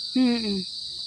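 A cricket chirps once, close and clear, a short tonal trill lasting about half a second in an outdoor tree-shaded setting, with a faint steady high insect hum behind it.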